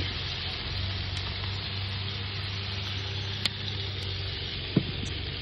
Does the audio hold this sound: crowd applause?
no